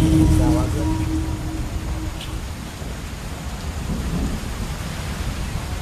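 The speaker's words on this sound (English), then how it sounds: "Far in the distance, the champion wrestler Chumin tries to brave the oncoming storm." A thunderstorm with a deep rumble of thunder over steady heavy rain, the thunder strongest at the start and fading into a constant wash of rainfall.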